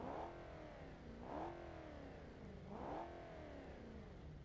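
Modded car exhaust in a car video game revving three times, each rev a sweeping rise and fall in pitch over a steady idle, quiet and alone with no talk.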